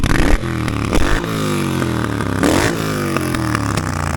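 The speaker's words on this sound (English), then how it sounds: "This exhaust sounds real nice. Quiet at idle" A Triumph Bonneville T120 with roughly 120,000 miles idles steadily through its exhaust, a close, continuous low engine rumble with a slight rise in revs partway through, and no voices over it.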